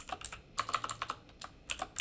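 Quick bursts of typing on a computer keyboard while entering text into a Google Slides college presentation, light clustered key clicks separated by short pauses, close and fairly quiet.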